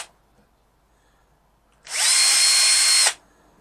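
A power drill fitted with a small bit whirs in one loud, close burst of about a second during a model aircraft build, following near silence, with no voices.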